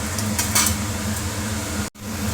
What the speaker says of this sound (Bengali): আলুগুলো ভাজছি।